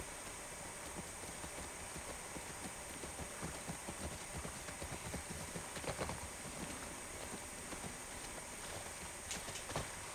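Horse hooves clip-clop at a steady walking pace in The Last of Us Part 1, faint and continuous under a constant background hiss.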